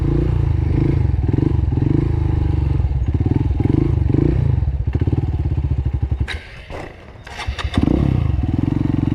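A motorcycle engine chugs at low RPM in steady throbbing pulses as the bike lifts into a wheelie, broken midway by clattering and scraping knocks before the close engine note returns.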